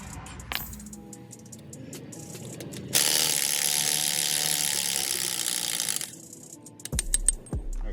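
A ratchet spins off wheel lug nuts on a 2013 Ram 3500 diesel pickup during brake work on a rainy day, with close clicking pawl bursts around a longer loud mechanical whir in the middle.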